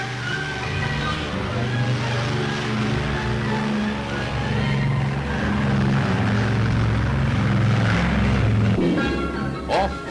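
Flying-boat aircraft engines roar during a test flight at a flying-boat station, a loud continuous propeller drone with steady tonal hum that swells midway, heard up close with a narrating voice over it.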